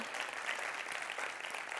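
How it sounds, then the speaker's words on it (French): A studio audience applauds the returning TVSO crew on a talk show, a brief, fairly faint, steady patter of many hands clapping throughout. "on peut applaudir aussi ma gang qui est de retour de TVSO"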